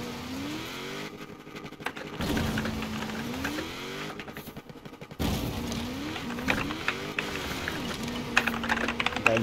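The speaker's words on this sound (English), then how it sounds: "Game crash. Immediate furious typing." Rapid, furious clatter of keys on a computer keyboard follows a racing game crash in Forza Horizon 4, with bursts of dense typing over a looping revving car engine from the game.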